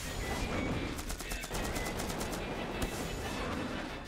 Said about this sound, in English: I'm gonna try missiles this time.